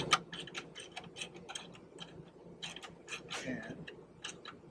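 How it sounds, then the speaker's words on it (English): A 7/16 wrench tightens a 1/4-inch bolt during an assembly job, giving a close, quiet run of quick, irregular metallic clicks and ticks. "7/16 wrench."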